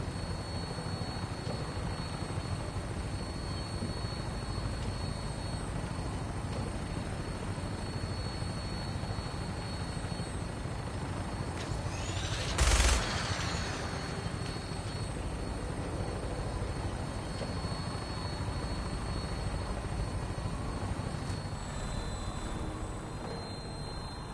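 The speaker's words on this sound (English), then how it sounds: "Flying around in a 200-year-old aircraft?" A 200-year-old aircraft in Fallout 4 flies with a steady, loud rotor-like roar, a continuous engine wash broken by one brief sharp burst midway.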